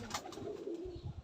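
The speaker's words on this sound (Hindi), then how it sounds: "माशाल्लाह लाजवाब कबूतर है" Pigeons kept in a loft, a soft low cooing phrase of a few pulses, close but quiet, cut short.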